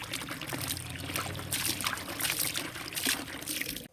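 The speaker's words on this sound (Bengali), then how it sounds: "তো এখন হাত ধুয়ে নিলাম" Tap water runs steadily while hands are washed, a continuous trickling splash near and alone, stopping abruptly at the end.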